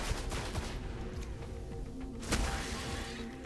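Rapid gunfire from the basic guns in the Destiny video game, a dense run of shots with a sharp louder blast near the end, steady and up close throughout.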